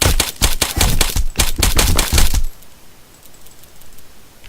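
Rapid, loud gunfire from a weapon in the military shooter Arma 3, about a dozen sharp shots in a quick rhythmic burst that cuts off abruptly, leaving quiet ambience.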